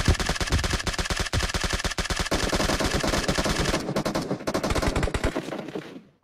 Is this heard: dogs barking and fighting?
no